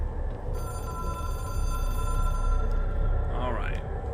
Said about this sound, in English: Who's got this phone, huh? The big red phone.